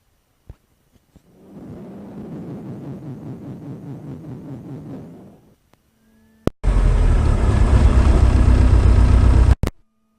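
A Citabria 7ECA light aircraft engine cranks with a steady whirring starter for a few seconds, falls silent, then catches and runs as a loud, close, rough roar that cuts off abruptly.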